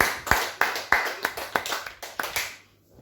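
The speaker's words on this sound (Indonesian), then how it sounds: "Kita tepuk tangan untuk Tuhan." A church congregation claps hands in praise during a worship service, a run of about eight sharp, fairly close claps at an even pace that fades out to quiet at the end.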